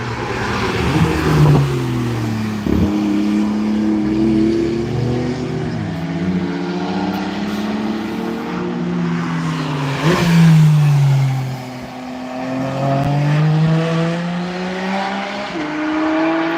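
Cars race around the Nürburgring track, their engines revving and shifting through gears at close range, with loud, continuous engine tones rising and falling as they accelerate and pass.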